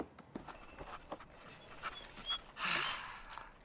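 A dog pants in short, quick bursts at moderate distance in a quiet room, with a few soft footfalls, ending in a louder, longer breathy huff.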